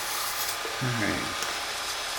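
Sandpaper of 220 grit rubbing a snakeskin pen gives a steady, close rasping hiss throughout, with a brief murmur of voice partway through.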